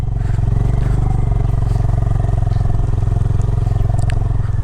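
A Honda Highness motorcycle rides an off-road trail near Devprayag, its engine a loud, close, steady low drone with a rapid pulsing beat and occasional faint clatters throughout.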